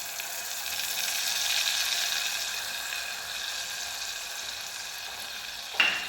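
A spice powder mixture poured into a hot pan gives a broad, steady sizzle that swells slightly and then holds. It ends with a single brief clink near the close, and nobody speaks.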